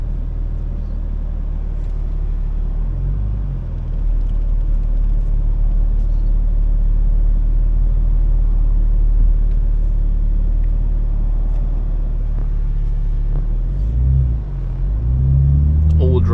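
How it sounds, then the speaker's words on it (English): A BMW M4 xDrive with all-wheel drive accelerates at full throttle from a launch, heard from inside as a deep, loud, steady engine rumble. The drone rises toward the end, and a voice talks over it. "acceleration pull"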